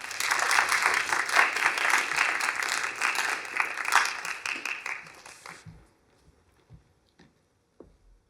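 A lecture audience welcoming historian Dr. Sarah Cameron breaks into dense, sustained applause of many hands for about six seconds, then it tapers off into a quiet room with a few scattered claps.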